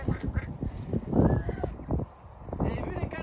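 Ducks quack a few times outdoors in Normandy while a person talks in French over them, the calls mixed in with the speech.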